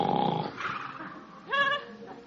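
A sleeping dog lets out a low rumbling growl, then a short whimpering yip, faint and close in a quiet room.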